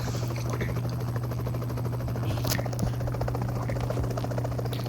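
A helicopter in the battle royale game PUBG Mobile, heard as a steady loud rotor drone with a constant low hum throughout and a few faint clicks on top, with no talking.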